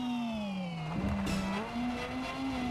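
Car brakes and slides on a dirt track in a racing video game, a steady engine drone with tire scrub and a skidding rasp, loud and continuous with no talking.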